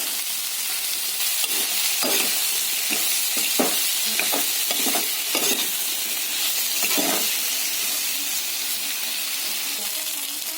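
Radish and potato pieces frying in a pan for a fish curry, a steady sizzle with intermittent stirring scrapes and clicks, close and moderately loud, no talking.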